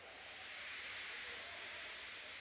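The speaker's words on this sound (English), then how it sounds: "He just let off steam feebly." A steam locomotive lets off a faint, steady hiss of steam, even and continuous throughout with no other sounds.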